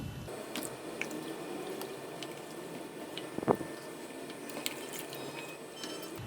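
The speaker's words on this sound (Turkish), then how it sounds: "Karıştıralım güzelce." Flour soup with bone broth and hot water is stirred in a pot, giving soft wet squishing and sloshing sounds with occasional light clinks of the utensil, quiet and close.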